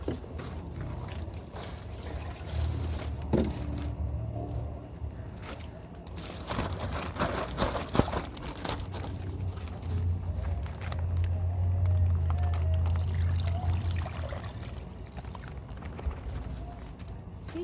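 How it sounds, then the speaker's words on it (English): Water is poured into a container to make compost tea outdoors, an uneven splashing and trickling that runs under a voice. "So we're just gonna basically fill this one out with water."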